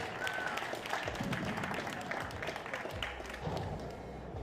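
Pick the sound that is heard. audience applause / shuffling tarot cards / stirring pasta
audience applause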